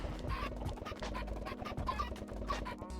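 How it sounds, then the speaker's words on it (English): Minecraft chickens in SkyFactory 4 cluck and scratch in a steady, busy chatter over a constant low game hum, with no voices. "we are here with the chickens for a very good reason"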